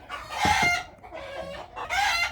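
Jersey Giant and Black Australorp crossed with native chickens cluck close by in three loud drawn-out calls with short pauses between them.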